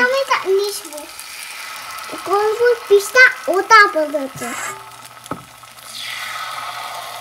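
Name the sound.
sizzling of food being cooked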